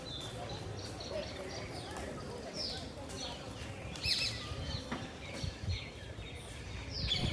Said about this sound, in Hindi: चिड़ियों की चहचहाने की आवाज